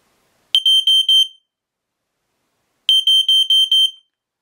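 A smoke detector rigged as a sump pump water alarm gives two bursts of four shrill, piercing beeps each, separated by silence, with no other sound around it.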